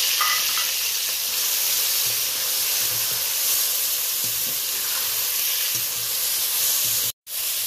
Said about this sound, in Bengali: চিংড়ি মাছটা একটু ভাজাভাজি করে দিচ্ছি।